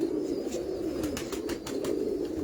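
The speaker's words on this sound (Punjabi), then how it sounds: "ਇਹ ਗੁੱਡ ਸਿਲਕ ਕਬੂਤਰ ਨੇ ਨੀਮ ਸਾਹਿਬ ਵਾਲੇ" Good Silk breed pigeons coo in a loft, a constant low rolling murmur close up, punctuated by a few short clicks and flutters.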